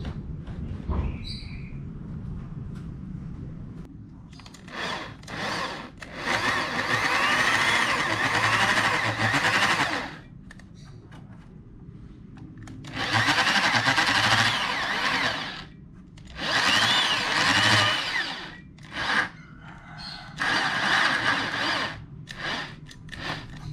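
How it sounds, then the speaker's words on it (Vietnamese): A power drill whirs in several long bursts, each running a few seconds, separated by quieter pauses, loud and close, drilling holes to fit a front mudguard on a Winner 150 motorcycle. "Lỗ mình vừa khoan xong rồi các bạn."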